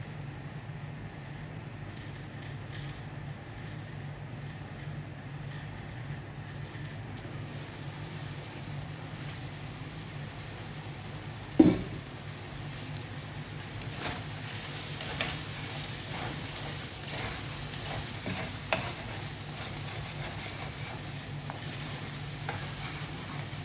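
Kinamatisang manok, a chicken and tomato stew, simmers in a pot with a constant low bubbling hiss, one sharp clank near the middle and a few fainter knocks later, no voices.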